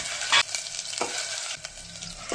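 Two spoons of ginger garlic paste sizzle in hot oil in a pan for a chicken curry, giving a steady crackling hiss broken by a few sharp scrapes and stirring knocks, with no talk.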